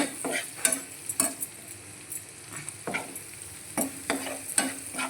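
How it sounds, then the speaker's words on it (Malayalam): Onions frying in oil in a pan for a home dinner, a steady sizzle broken by repeated scraping stirs of a utensil against the pan, close by and without talk. "ഉള്ളി ഇടാൻ പോവും ഇപ്പോൾ ഉള്ളി ഒരുവിധം വഴണ്ട് വന്നിട്ടുണ്ട്"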